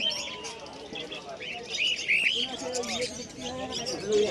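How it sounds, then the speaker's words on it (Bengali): Yellow budgerigars chirp in a cage at a busy market, with bright, thin twittering bursts rising over a constant bed of crowd noise and chatter. "এই খাঁচাটায় টোটালি সব হলুদ কালারের বদ্রি রাখা আছে।"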